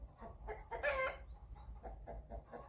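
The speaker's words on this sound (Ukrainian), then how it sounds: "Кури радіють, куриця хвастається." Chickens cluck in short bursts with one louder squawk, nearby, over a low steady background hum.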